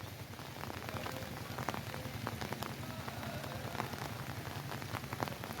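Steady rain falls around a hilltop temple overlooking a Kozhikode landscape with hills behind, a dense continuous patter of drops on surfaces at close range with no voices.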